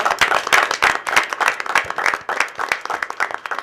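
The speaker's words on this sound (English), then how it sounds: "Let's give them another round of applause" Dense applause from an audience at a school board of education meeting, many hands clapping quickly and steadily throughout at moderate loudness.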